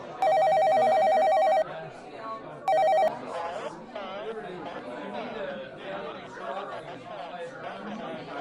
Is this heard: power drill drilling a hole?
no